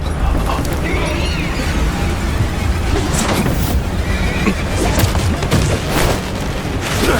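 A horse whinnies inside a video game, sounding over a constant, dense wash of game music and effects, with booming impacts and clatter layered throughout and no clear gap where the neigh stands alone.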